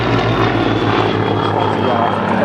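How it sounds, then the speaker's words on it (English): Supermarine Spitfire WWII fighter at an air show, a loud continuous propeller engine roar overhead, steady and strong throughout, with a commentator talking over it on the public address. "They say that there is no such thing as a truly slow roll in a Spitfire because you've only got an hour and a half's fuel."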